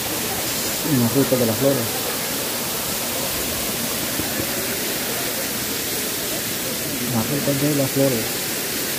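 The Don Juan waterfall, with its icy water, gives a steady broad rushing roar throughout, while a person talks over it now and then.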